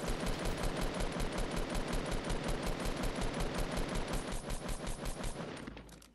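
Sustained rapid automatic gunfire from a shooter video game, dense, loud bursts of rhythmic shots running almost continuously for several seconds before tapering off at the end.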